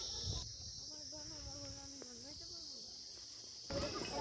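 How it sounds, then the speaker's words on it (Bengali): Crickets in a Darjeeling forest, a faint steady high trill running throughout, with a voice talking over the middle. "ঝিঝি পোকার ডাক"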